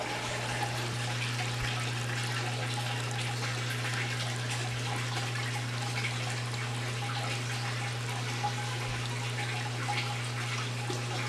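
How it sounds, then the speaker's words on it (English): Water siphons out of a barrel through a pipe as a continuous trickling, splashing flow, steady and fairly close, over a constant low electrical hum for the whole stretch. "We're going to see if we can siphon out this water and see how high we can siphon out from the other side."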